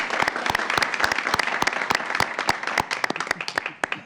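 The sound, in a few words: council chamber round of applause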